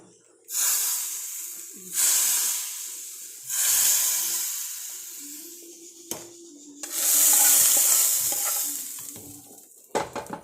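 Hot curry tempering poured into a ripe mango curry hisses and sizzles in loud, repeated bursts, each surging then fading, with a sharp clatter near the end.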